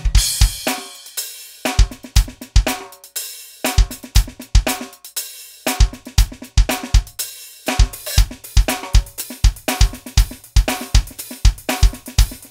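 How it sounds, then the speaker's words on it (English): A Roland TD-30 electronic drum kit played with a tight, dry funk patch, with a high-pitched snare, punchy kick drum and clean toms in a busy, syncopated groove with short breaks, loud and close. "it's a very tight, quite dry kit with a fairly high snare drum, very punchy kick drum"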